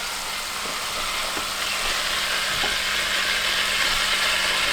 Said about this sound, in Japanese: はい、じゃあ揚げていきます